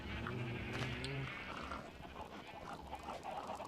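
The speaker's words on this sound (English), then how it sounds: "past the very noisy sheep" A sheep in a video game gives one drawn-out, wavering bleat near the start, loud and close, then the scene settles into a softer, busy ambience.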